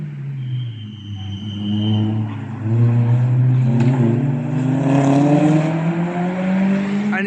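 Cars passing on a Cadwell Park track day, including a Lotus: a loud engine note rising in pitch as it accelerates close by, with a steady roar and a second car's sound mixed in.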